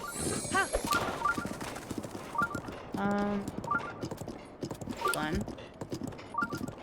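Horse hooves clip-clop in the video game The Legend of Zelda: Breath of the Wild, a steady galloping rhythm under game music and chimes, with a person talking over it.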